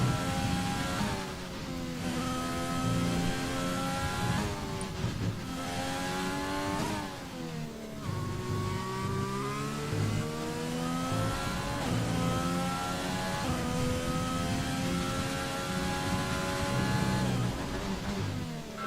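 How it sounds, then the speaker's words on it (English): F1 2020 racing game: Formula 1 cars heading out on track, with high-pitched engines revving and shifting through gears continuously, several overlapping and loud, without any talking. "We got a bunch of drivers coming out on track for the out laps"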